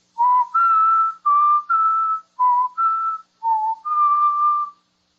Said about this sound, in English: Let me see if I can whistle those notes written in the musical theme.